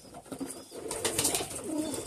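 A mouse-grey pigeon in a loft coos in soft, low, repeated phrases, close and moderately loud, with no voices over it.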